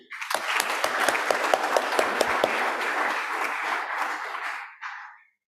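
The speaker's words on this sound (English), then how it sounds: "In absentia, let's give Kurauka a clap too." A workshop audience at a climate justice summer school in Nairobi claps for a presenter, a burst of close sharp claps settling into steady applause that fades out near the end, with a brief voice after.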